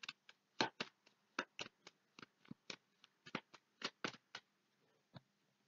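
Playing cards being laid down one after another onto a card spread, giving a series of soft, crisp slaps and flicks at an irregular rhythm, close and fairly quiet with no talking.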